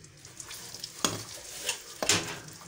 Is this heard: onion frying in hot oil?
yes